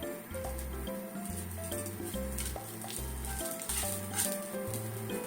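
Fried tofu (aburaage) frying in a pan with a steady, soft sizzle, partly masked by louder background music with a pulsing bass line.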